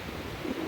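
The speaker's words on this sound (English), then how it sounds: "Winds freaking blowing" Steady, blustery wind from Hurricane Hermine roars across the microphone in a continuous rush, swelling slightly in a brief gust near the end.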